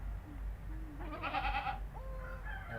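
A mother goat and her newborn kids bleat softly at close range, several short, thin calls rising and breaking over a low background hum.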